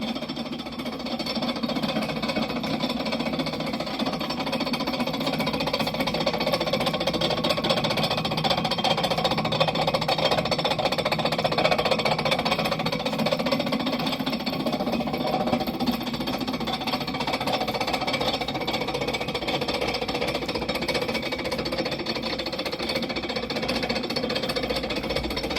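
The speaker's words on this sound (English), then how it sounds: "his gorgeous Champion blower and forged drill press in operation" A Champion 20-inch camel back drill press running on automatic feed, giving a steady, loud, continuous mechanical clatter and grinding hum that holds unchanged for the whole stretch with no speech.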